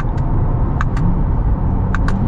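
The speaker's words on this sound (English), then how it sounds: "I love how I can just downshift." A 2023 Chevy Corvette Z51 Convertible drives along with a deep, steady engine rumble heard from inside the car, while faint brief clicks and taps from the cabin come and go over the drone.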